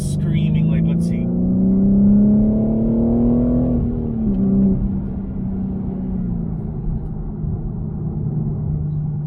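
A 2021 BMW M3 engine revs loud and close, its pitch climbing steadily for about four seconds before dropping back to a steady, lower rumble that holds to the end.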